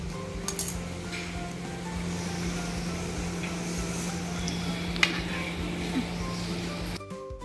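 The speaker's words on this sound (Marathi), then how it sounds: "आणि रश्श्याला छान उकळी आली आहे." Curry gravy simmering in a pot on a wood-fired stove, a low steady bubbling hiss with a faint hum and occasional light clinks, cutting off at the end.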